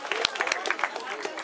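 A youth cycling podium at a cyclo-cross race draws a dense burst of applause from the crowd, with a continuous clatter of many hands and loud talk heard over it.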